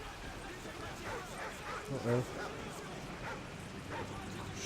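Dogs in the Call of Duty MW3 campaign bark and yip briefly at mid distance, a short burst of two or three barks against a stormy backdrop while someone talks quietly over them.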